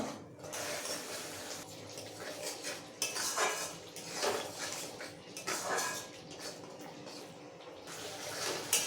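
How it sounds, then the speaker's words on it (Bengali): Spice masala being stirred and fried in a pan, with repeated metal spoon scrapes and clinks against the pan over a soft background sizzle. "এখন মশলাটা খুব ভালো করে কষিয়ে নেব"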